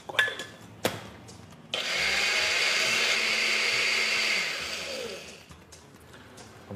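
A kitchen blender whirs steadily while it purées huancaína sauce with evaporated milk and oil. It starts after a couple of knocks, runs loud for a few seconds and then winds down.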